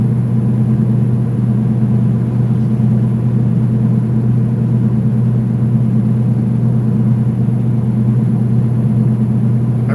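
A truck with a Cummins X15 525 hp engine and 18-speed transmission cruises at highway speed, producing a loud, steady low engine drone and road rumble heard from inside the cab.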